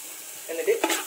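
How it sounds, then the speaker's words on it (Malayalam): Onions frying with salt and fresh curry leaves in a hot pan for a Kerala-style kappa biryani, giving a short burst of sizzling and stirring scrapes that swells in two quick pulses. "ഇനി ഇതിലേക്ക് ഒരല്പം കറിവേപ്പിലയും കൂടെ ഒന്ന് ചേർത്ത് കൊടുക്കാം."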